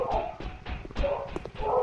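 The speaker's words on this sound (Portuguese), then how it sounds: "Eita, a cachorrada metendo louco." A pack of dogs barks repeatedly in the FNAF Doom mod video game, several overlapping barks and yips in an uneven rhythm under steady game background noise.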